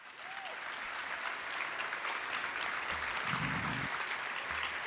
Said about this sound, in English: please join me in giving a warm round of applause